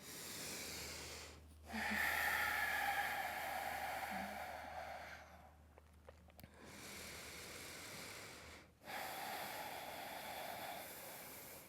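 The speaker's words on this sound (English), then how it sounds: "taking 5 deep inhales and exhales, breathing through your nose" Deep breathing in and out through the nose during yoga, long, slow, audible inhales and exhales in a close, steady rhythm, with brief pauses between breaths.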